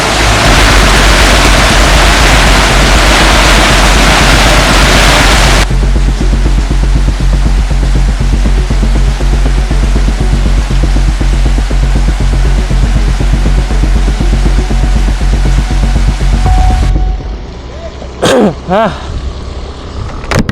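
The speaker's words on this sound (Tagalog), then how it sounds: "Ang lakas ng hangin eh, tingnan niyo yung mga puno." Strong wind roars with a heavy downpour during a storm on a road toward Dumaguete in the Philippines, a loud, steady broadband rush that stops abruptly after about seventeen seconds, leaving quieter scattered sounds.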